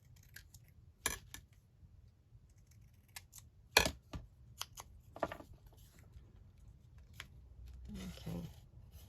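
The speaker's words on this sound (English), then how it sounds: "Let's just snip this down here" Sharp snips of scissors cutting paper while making a junk journal tag, heard as a few distinct close clicks between quiet pauses, with faint handling noise and a little talk.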